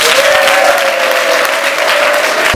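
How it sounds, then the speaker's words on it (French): Steady, dense applause from an audience at a diploma ceremony for nurses and midwives, loud and continuous for a few seconds with a faint tonal hum underneath. "Vous pouvez quand même nous applaudir."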